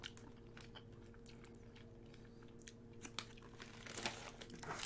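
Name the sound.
chewing strawberry-flavoured chewing gum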